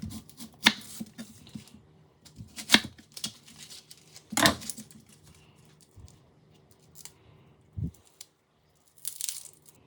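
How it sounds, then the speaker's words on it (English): Knife chopping through a medium onion on a board, topping, tailing and halving it, followed by peeling; a few sharp crunchy cuts spaced seconds apart with soft rustling of papery skin in between, close and fairly quiet. "Top, tail, cut in half and peel 1 medium onion."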